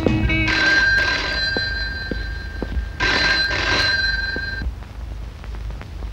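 A telephone rings in a Kannada action film, two clear bursts of a bright electronic ring separated by a short pause, loud and close, and no one speaks over it.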